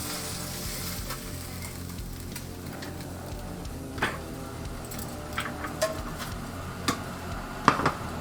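Oden with tofu and hard-boiled eggs bubbles in a pot over reduced heat, a soft steady simmer with faint bubbling. A few light clinks and taps of utensils break in near the end.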